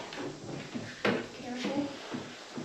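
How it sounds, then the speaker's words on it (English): An attic ladder's hinged ceiling door swings down during installation, giving one sharp knock or thud partway through, with voices talking around it. "Now, hopefully the door's gonna come down now."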